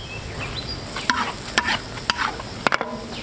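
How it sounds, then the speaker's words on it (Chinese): Scallion leaves stir-fried in a wok of hot oil with scallion and ginger, several sharp scraping strokes of the spatula cutting through a close, steady sizzle. "炒香以后放入葱叶子"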